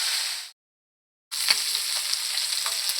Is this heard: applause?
no